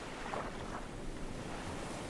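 Steady, dense wash of ocean surf and wind in the Stranded Deep video game as waves lift a raft, a constant low rushing roar with no distinct breaks, fairly faint.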